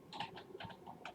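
A short, rapid run of key clicks on a computer keyboard, close but fairly soft, with no voices.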